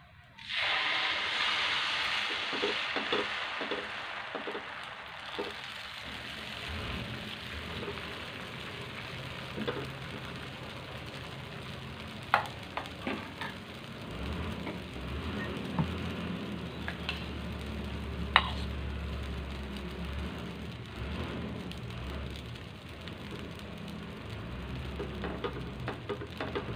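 Dosa batter spread on a hot dosa pan for an egg masala dosa, giving a steady close hiss and sizzle that runs throughout, with a few faint clicks and scrapes over it and no talking.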